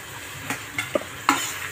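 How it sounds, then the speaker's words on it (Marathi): Tomatoes going into a pan of sizzling, reddened garlic and onion: a low steady frying hiss with a few sharp stirring knocks and scrapes of a spoon against the pan, close up and without speech. "आता याच्यात आपल्याला टोमॅटो टाकून घ्यायचे"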